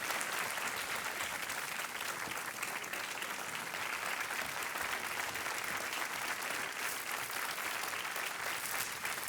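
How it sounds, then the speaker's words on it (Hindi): A studio audience at a televised quiz show claps in a steady, loud, continuous wash of applause that holds evenly from start to finish with no talk over it. "तालियों के साथ इनका अभिनंदन करते हैं"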